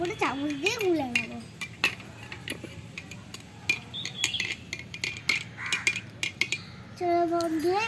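A spoon clinks and taps against a glass or bowl while stirring a hajmola mixture, with scattered sharp ticks and scrapes, as someone talks over the sounds.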